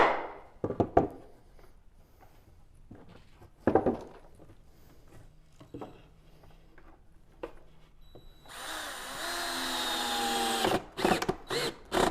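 A power drill drives screws into hardwood for a cabin firewood shed, a sustained whining run of a couple of seconds near the end, preceded by scattered knocks, handling and tool clatter.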